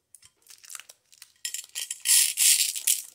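Small scissors cut open a vacuum-sealed plastic package of pinch beads: close crinkling, snipping and tearing of plastic, sparse at first, then building into louder rustling bursts near the end.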